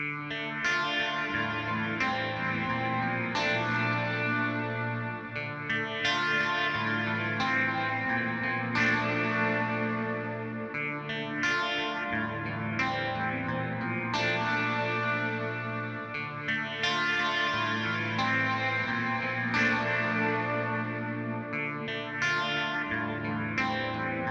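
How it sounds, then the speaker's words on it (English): A musical passage runs through a FabFilter Pro-R reverb with pre-delay, repeated struck notes blooming into a wash of lingering echo and sustained tails, steady and moderately loud with no talking. "the pre-delay changes the amount of time before the delay or the reverb actually kicks in"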